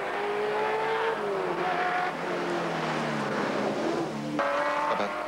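The Cadbury Schweppes race car at the 1980 Bathurst great race comes down off the top of the mountain, its engine note loud and continuous, rising and falling through gear changes over the whole stretch.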